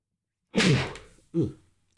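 A single sharp, breathy sneeze bursts out close by, followed by a brief softer exhale or sniff, then silence.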